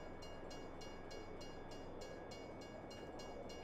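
A train in Farming Simulator 22 rolls along with a faint, steady rumble and rhythmic clacking of wheels over rail joints, repeating roughly every third of a second, with a thin sustained tone over it.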